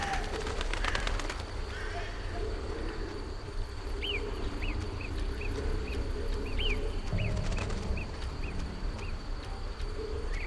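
Pigeons give short repeated calls in The Witcher video game, scattered over a steady outdoor ambience with hoof clops early on, while someone talks intermittently.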